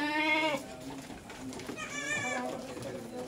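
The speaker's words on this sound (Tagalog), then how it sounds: "Ang dami guys yung kambing dito ni Sir Ian." Goats bleat at a goat farm in Cordon, Isabela: two long, wavering bleats, one at the start and another a moment later, fairly close and moderately loud, with farm background noise and some voices around them.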